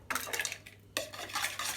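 An egg is stirred in a pan for an apple cake batter, giving faint scraping clinks of a utensil against metal in two short bursts.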